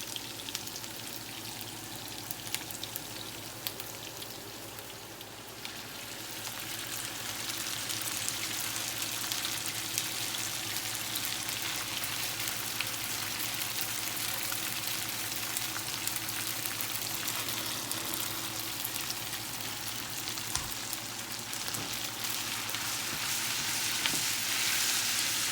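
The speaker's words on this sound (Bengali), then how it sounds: "আমি পেঁয়াজটাকে খুব বেশি ভাজবো না, আর একটু ভাজা হলে আমি দিয়ে দেব নুডলস" Onions frying in a pan ahead of adding noodles for chicken and egg noodles, a steady broadband sizzle that holds through the whole stretch and grows slightly brighter toward the end, with no voices.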